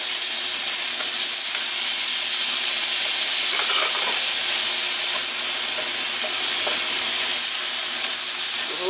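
Garlic, red peppers and onions fry in a pan, giving a steady, loud hiss and sizzle that runs unbroken throughout, with no talking.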